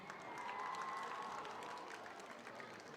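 A women's audience at a large IT exam event in Sindh claps, giving a faint, distant, steady wash of applause and crowd noise that lasts throughout.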